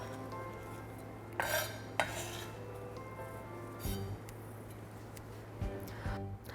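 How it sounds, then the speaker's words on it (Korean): A spoon stirs sauce ingredients into a bowl of chopped onion for a salad dressing, with soft scraping and a few sharp clinks against the bowl over a low steady hum. "다져놓은 양파 그릇에다가요 소스 재료를 섞어 주시는데요"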